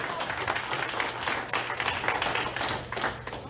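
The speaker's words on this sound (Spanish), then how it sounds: "¿Cuánto le dan un aplauso grande al Señor?" A church congregation breaks into loud, dense applause, continuous and full throughout with a crowd murmur underneath.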